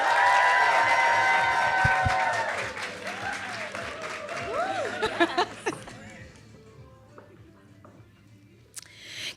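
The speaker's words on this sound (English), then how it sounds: "Please, can we have a round of applause to Miss Rhea Ellen." A round of applause from a panel event audience, clapping loud at first with cheering voices, then fading to scattered claps and quiet near the end.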